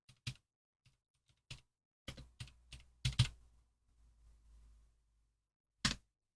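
Someone types a new name on a computer keyboard in video editing software: a sparse run of crisp, close keystrokes, clustered in a quick burst with pauses between, in an otherwise quiet room.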